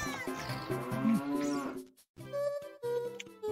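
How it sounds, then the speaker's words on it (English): Ranch cows in the video game The Legend of Zelda: Ocarina of Time give long, drawn-out moos at night, one lowing call after another, clear and alone. "the ranch cows at night will fill your bottle with milk"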